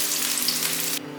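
Green beans pan-fry in hot oil, giving a bright, close, steady sizzle for about a second before it suddenly drops to a much quieter hiss.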